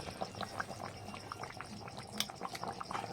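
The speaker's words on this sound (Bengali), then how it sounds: "ফুটছে" Fish curry sauce bubbles in a pan, a faint, steady stream of small popping blips and gentle simmering close by, with no talking over it.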